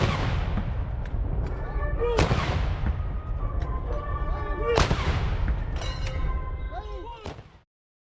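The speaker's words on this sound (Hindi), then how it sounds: "अब की बार 8 स्वदेशी 105 mm लाइट फील्ड गन्स को 21 तोपों की सलामी के लिए तैनात किया गया है" Indigenous 105 mm light field guns fire a 21-gun salute at a Republic Day parade, with several heavy booming blasts spaced a couple of seconds apart over a constant crowd and ambient rumble, ending abruptly.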